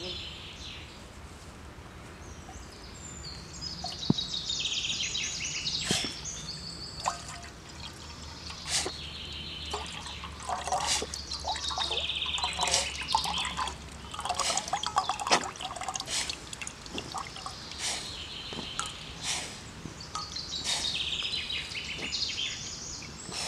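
Water poured through a bandana filter into a container, a soft intermittent trickle with drips and light splashes, fairly quiet and close, with a faint birdlike chirp now and then.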